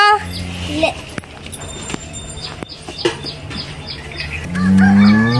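Cows at a water trough on a family farm in the morning: background chirps and faint voices, then one loud, close, drawn-out moo rises near the end.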